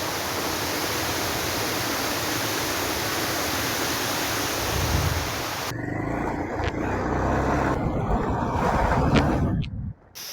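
Steady loud roar of rushing water from a forest waterfall near a small stream crossing, a dense continuous wash that carries on unbroken and then cuts off abruptly near the end, with no voices.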